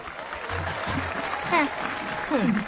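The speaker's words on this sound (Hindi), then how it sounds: "तालियां बजाओ" A crowd claps in steady applause while scattered voices call out over it, the clapping moderately loud and continuous throughout.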